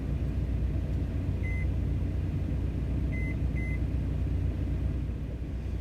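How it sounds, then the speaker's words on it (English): A steady low hum of a running microwave oven in a big rig truck cab, with a few short electronic beeps heard faintly over it. "I'm going to put them in my microwave."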